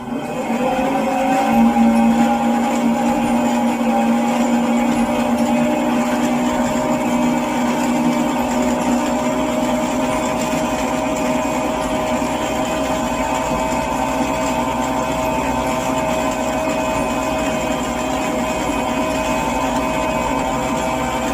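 Stand mixer with a paddle attachment creaming butter for a sweet tart shell, a steady continuous motor whir with a tonal hum that holds evenly throughout, no talk.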